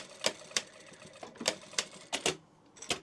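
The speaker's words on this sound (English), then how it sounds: "you can do this with a normal sewing machine" Mechanical stitching bursts from a standard sewing machine sewing a fabric tissue pouch, a series of sharp rapid clatters in short runs, close and fairly quiet, with no talking.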